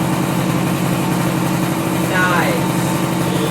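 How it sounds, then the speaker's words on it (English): A 1970 Kawasaki Bushmaster motorcycle engine idles steadily on its own without choke, a close, even, rapid putter with a brief higher sound partway through. "No choke. idling on its own."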